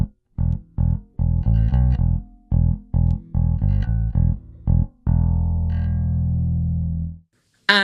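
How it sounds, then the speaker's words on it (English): Squier Vintage Modified '70s Jazz Bass played straight into a DI with no pedal, a run of short plucked notes with gaps between them, then one long sustained note that rings out and cuts off, clean and close. "So here's the sound of the bass without the pedal on."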